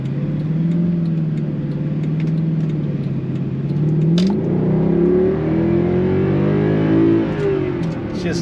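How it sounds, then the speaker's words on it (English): A Mercedes C63 AMG engine revving up close, a deep loud growl that holds steady and then climbs in pitch through several rises in revs, with no voices. "Just listen to that engine."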